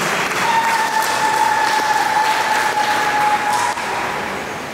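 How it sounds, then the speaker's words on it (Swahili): Steady crowd applause for a woman at a Good Friday church procession, dense and continuous for several seconds with a thin sustained tone running underneath, easing slightly near the end. "Dada yetu huyu tumpigie makofi na tumuombee"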